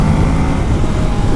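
A 2020 Kawasaki Ninja 650 engine drones loud and close while being ridden, a rough steady rumble under buffeting wind, with no talk.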